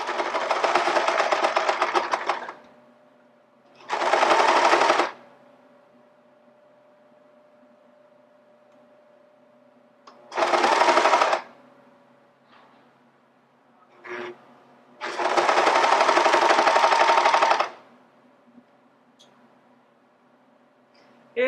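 Sewing machine stitching a stretched neckband onto a tee: four short bursts of whirring stitching, the longest a few seconds, separated by quiet pauses with faint handling sounds, close and moderately loud.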